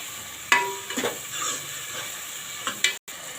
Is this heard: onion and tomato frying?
yes